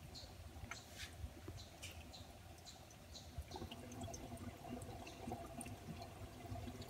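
Spring water pours steadily from a damaged pipe at Rock Spring shelter in Shenandoah National Park, a faint continuous trickle and splash outdoors, with birds chirping now and then.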